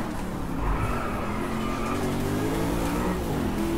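A car drifting in the racing game Driveclub, a steady roaring engine with sustained tire squeal and skidding, loud and continuous throughout.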